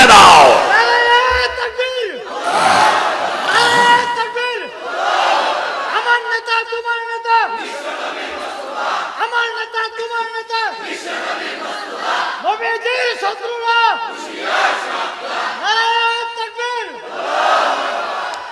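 A large crowd at a Bangla Islamic sermon gathering chants takbir, Allahu Akbar, in loud, unified calls that repeat in a steady rhythm, with each shout swelling and then falling away.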